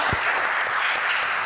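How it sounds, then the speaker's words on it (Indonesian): An audience in an Indonesian meeting hall breaks into steady applause, a dense wash of clapping that holds evenly throughout without voices on top. "Iya, tepuk tangan buat Pak Indradi."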